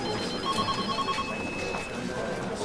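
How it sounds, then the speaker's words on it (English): Fire alarm bell ringing inside a building during an evacuation, a continuous tonal ringing with steady pulsing, moderately loud, with faint voices in the background. "There is a fire alarm going!"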